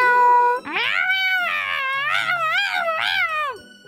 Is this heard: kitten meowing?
yes